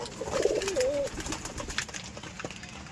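A Rajshahi Giribaj pigeon gives a soft, brief coo near the start, fairly quiet against faint outdoor background noise.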